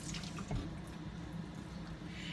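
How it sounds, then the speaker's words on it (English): Hands rinse under a running kitchen tap to wash off cooking oil. The water hisses and splashes in a faint, steady stream. "I'm just going to rinse off my hands so I'm not slipping and sliding with all that oil"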